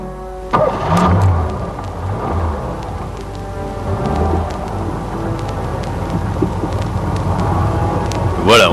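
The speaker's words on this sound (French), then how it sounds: "Alors prenons la voiture maintenant et allons chercher l'argent" A car engine rumbles and revs up, then settles into a steady drive in a French radio drama, carrying the company chief executive's car, with a sharp burst near the end and faint voices around the engine.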